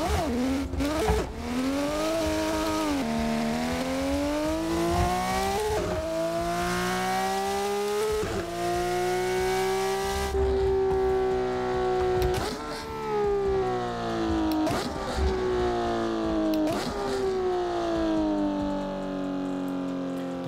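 Traffic cars drive past on a highway in the video game Assetto Corsa, with a steady engine drone rising and falling as the car shifts through gears. The sound is loud and continuous, with no talking.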